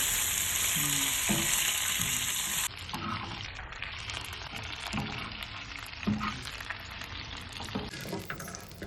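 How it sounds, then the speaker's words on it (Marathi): Steady sizzling as cleaned dried bombil (Bombay duck) fry on a hot tava, loud and close, with repeated scraping and stirring sounds as the fish are tossed about. "साफ केलेले बोंबील आपले तव्यात टाकायचे आणि छान असे परतून घ्यायचे"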